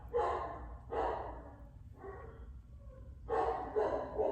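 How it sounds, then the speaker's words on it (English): Dogs bark in a series of muffled bursts about a second apart, sounding somewhat distant, with the last barks coming in quick succession. "so you will hear all my dogs go crazy."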